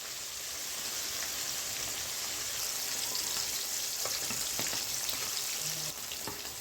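Fish frying in oil in a pan, with a steady, bright, continuous sizzle and small crackles and pops, close and moderately loud, with no talking.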